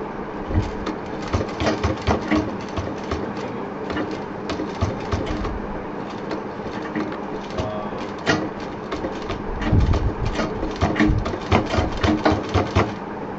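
Sewing machine stitching through stacked cloth layers of a homemade door mat, a steady rapid mechanical chatter with short pauses and restarts, close and fairly loud throughout.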